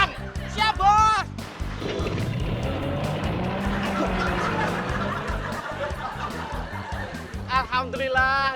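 A pushed car's engine starts and settles into a steady running drone, with voices talking and laughing at the start and again at the end.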